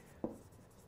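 A single short stroke of a red pen on a board during a lesson, heard once as a brief scratchy burst near the start, with the room quiet and no one talking around it.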